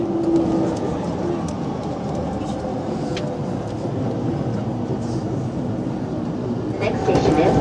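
A JR Yamanote Line train runs on the outer loop toward Shibuya and Shinjuku in Tokyo, giving a loud, steady rumble with rattling from inside the car while an onboard announcement plays.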